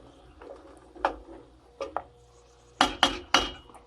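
Cranberry sauce being stirred in a pot, heard as a series of close clinks and knocks of a utensil against the pot, sparse at first and then three quick strikes near the end.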